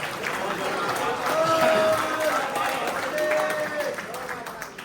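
Audience applause for a poet at a mushaira, dense steady clapping that swells and holds throughout, with faint voices mixed underneath.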